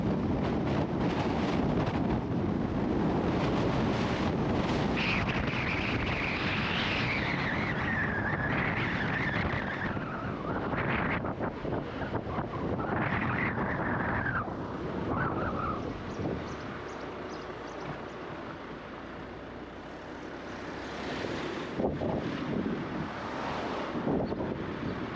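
A strong west wind and waves at the Villasimius anchorage in southern Sardinia, a constant roar of wind buffeting the microphone over rushing surf, with a faint whistling tone rising and fading partway through.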